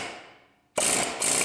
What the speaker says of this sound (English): I used the air hammer again on the lower spline, right on the U-joint.